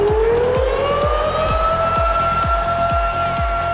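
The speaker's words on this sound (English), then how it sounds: "The siren sounds." Rising, steady siren wail at a wrestling event, loud and continuous over a rhythmic thumping pulse, with no speech.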